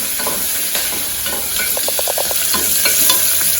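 Corn and capsicum sizzle steadily in a hot pan while a spoon stirs and scrapes, with a few light clinks over the constant hiss.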